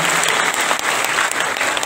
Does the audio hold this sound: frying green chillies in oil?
no